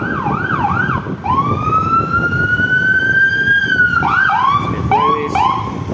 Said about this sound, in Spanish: Las ambulancias aquí, pues.